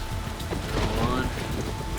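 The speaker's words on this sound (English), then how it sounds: "It's starting to rain." Steady rain beats down in an even, dense wash of hiss at an airport gate before a storm, with low rumbling underneath and no pauses.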